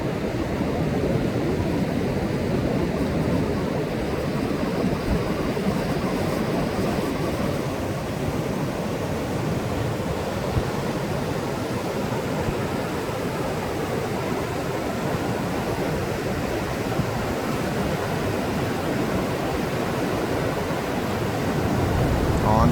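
Rushing river water at Sandstone Falls, West Virginia, recently flooded, as a loud continuous broadband roar that holds steady and close for over twenty seconds.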